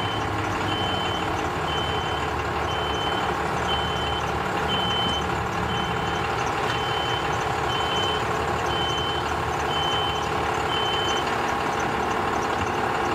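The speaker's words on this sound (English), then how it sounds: "That truck over there, I guess must have had a beeper when he backed up on his truck" A truck's reversing beeper at a boat ramp during a heavy rainstorm, with evenly spaced high beeps repeating for the whole stretch over a constant wash of rain and engine rumble.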